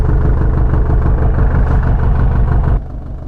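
Diesel engine of a 2000 Mitsubishi Fuso truck idles loudly and steadily up close, with a low rumbling pulse that drops noticeably in level near the end.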